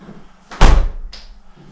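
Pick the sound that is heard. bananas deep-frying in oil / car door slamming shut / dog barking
car door slamming shut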